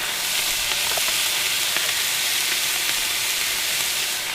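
Steady crackling sizzle of potatoes, zucchini, carrots and red onion frying in hot oil in a skillet at a winter campsite, continuous and close, with faint scattered pops and no talking.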